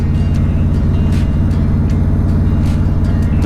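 Steady, loud low engine drone and road rumble from inside a vehicle on a Texas road trip, continuous with no talk.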